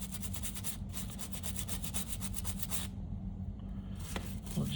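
Brush scrubbing rust off a part of a Studer A820 2-inch multitrack tape machine under restoration, heard as close, quiet, rapid back-and-forth rubbing strokes with a short pause near the end.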